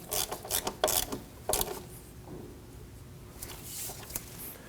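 A wrench snugging down the brake hose bracket bolt on the front strut of a 2003-2006 Subaru Baja, giving a few short, close metallic clicks and rattles in the first two seconds, then quieter handling noise.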